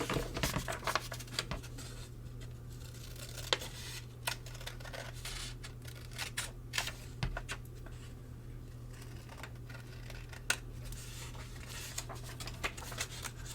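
Scissors snip through folded paper for a Valentine craft in a quiet room, a series of soft, scattered crisp cuts and light paper rustles at close range over a steady low hum.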